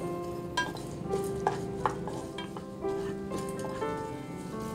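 Dry red chillies, peppercorns, jeera and curry leaves sautéed on a slow flame, a quiet dry rustle with intermittent spatula scrapes and light clinks against the pan, close and soft.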